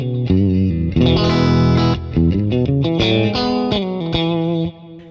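Distorted electric guitar played through a warm cabinet impulse response, a few loud sustained chords and short picked notes with chorus-like shimmer, heard alone.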